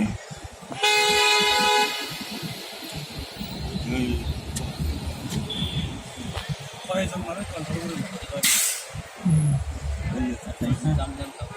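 Busy street scene in Times Square, New York City, where a loud horn-like blast and a rumbling, rolling rail or traffic roar fill the air, with voices talking and city noise throughout.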